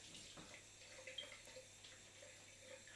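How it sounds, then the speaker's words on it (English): Cold water runs steadily from a bathroom tap during a wet shave, a soft continuous faint rush with no voices. "Get it under the cold water."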